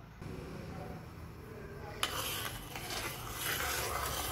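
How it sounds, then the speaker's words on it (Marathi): A ground masala paste is stirred in a large pan for Goan fish curry. It gives a continuous scraping, rubbing noise with a faint sizzle that grows brighter and busier partway through. "सगळं वाटप टाकल्यावर असा चांगला बरं ढवळून घ्यायचा"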